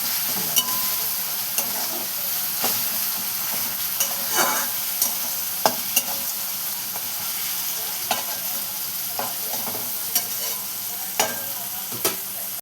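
Chili, onion, tomato and garlic are stirred in a hot pan for a gram-leaf bhaji, with a continuous sizzle broken by regular sharp scrapes and taps of the spoon against the pan, close and fairly loud, without speech.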